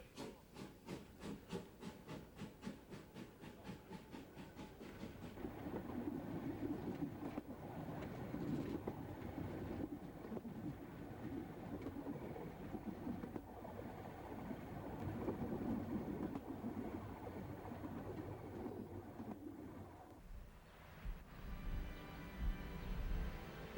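An old train at Kühlungsborn station, the hourly service to St. Doberan, rumbles steadily with rhythmic clicking at first, then a sustained rolling roar and hiss that fades near the end, with no talk.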